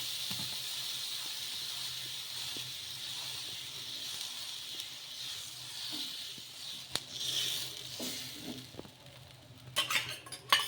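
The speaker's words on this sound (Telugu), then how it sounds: "నీళ్ళు అయితే వేసేసుకొని ఇలా దోశ వేసేసుకోవడమే" Dosa batter of wheat rava and urad dal hisses on a hot pan just after water is sprinkled, a steady close sizzle that fades toward the end as utensils clink and scrape loudly.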